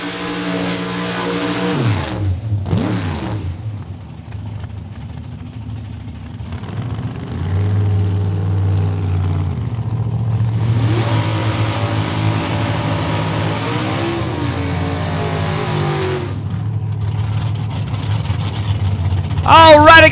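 Drag racing cars, among them a 1963 Nova, rev and roar away at Saskatchewan International Raceway in Saskatoon. Loud engines rise and fall through several launches and passes, with a sharp burst near the end and crowd noise in the background.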